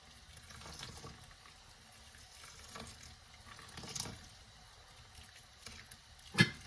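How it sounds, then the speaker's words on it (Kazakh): Boiling water poured over two cups of rice in a bowl, a soft, faint trickle and patter of liquid with a few louder splashes, ending in a sharp clink near the close. "Енді осы күріштің үстіне қайнап тұрған суымызды құйып шығатын боламыз."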